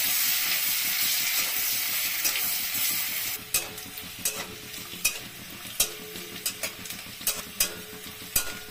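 Chopped onion fries in oil in a pan for a crispy topping, a bright hissing sizzle that softens midway, then repeated sharp taps and scrapes of a spoon stirring close by; no voices.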